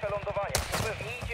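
Gunfire in Call of Duty: Modern Warfare II on the Al Mazrah map: a sharp burst cracks out partway through, with a lower rumble after it, while people talk over it.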